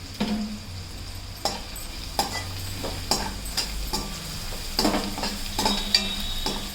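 Tomatoes fry in a pan for egg biryani while a spoon stirs them, producing a steady sizzle broken by regular scraping and clinking strokes against the pan, close and with no voices.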